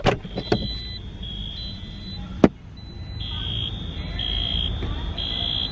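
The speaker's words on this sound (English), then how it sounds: "There's some kind of weird alarm going off." A high electronic alarm tone from a school beeps in intermittent steady bursts at a distance, with a few sharp knocks and background noise.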